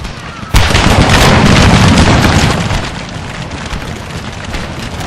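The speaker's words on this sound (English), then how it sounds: "So now I'm concentrating my artillery with the quick line shot or whatever." Cannon-like artillery fire in a Civil War mod of a strategy video game bursts in as a loud, dense rumbling barrage, sustained for about two seconds and then easing into a softer, continuing crackle of distant shots.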